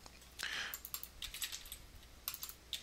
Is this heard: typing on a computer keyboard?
yes